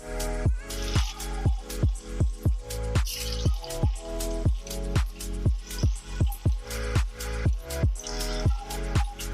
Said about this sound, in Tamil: பணியாரக்கல் ஹீட் ஆகிட்டு நம்ம ஒரு கரண்டியாக ஊற்றிக்கலாம்.